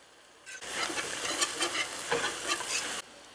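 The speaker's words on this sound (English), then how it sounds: "we're going to mix in a half a cup of flour" Flour stirred into softened celery and onions to make a roux for walleye chowder: a close, gentle sizzle with scraping spoon strokes for about two and a half seconds, starting and stopping abruptly.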